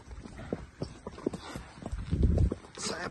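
Horse hooves clip-clop in an uneven walking rhythm during a horse ride in Osh, fairly close and moderate in volume, building to a louder, busier burst near the end.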